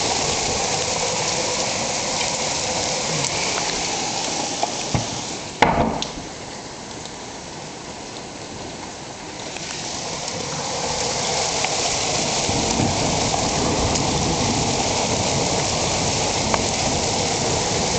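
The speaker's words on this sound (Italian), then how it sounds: "Adesso di nuovo pioggia." Steady night rain falling after a hailstorm, a dense even hiss of drops on surfaces with one sharp knock partway through and a brief lull before the downpour builds again.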